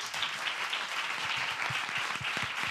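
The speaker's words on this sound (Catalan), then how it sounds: "Si us plau, un fort aplaudiment per la nostra banda." A crowd applauds a band at a small backstage concert, a dense even patter of clapping lasting a few seconds with no voices over it.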